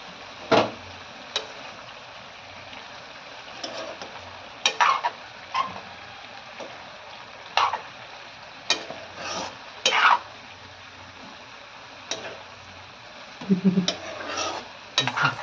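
A spoon stirs tomatoes into a potato and broad bean curry in a pan, with a soft steady scraping broken by repeated sharp metallic knocks against the pan, close by.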